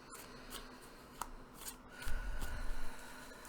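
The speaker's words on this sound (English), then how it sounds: "I hope that shuffling wasn't too loud in the microphone." A deck of cards being shuffled close by, soft riffling with a brief louder ruffle near the end, over a faint steady background hiss.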